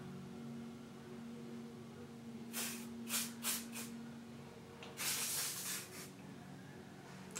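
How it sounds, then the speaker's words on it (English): KQC Thermal Shine hair spray is sprayed in short bursts, several quick hissing puffs in a row followed by a longer spray, close and moderately loud over a quiet room hum, with no speech. "So I'm just going to spray this in my hair."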